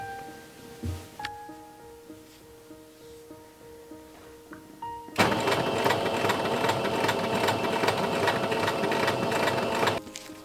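A sewing machine top stitches folds on a skirt, starting abruptly after quiet handling noises and whirring steadily for about five seconds before stopping.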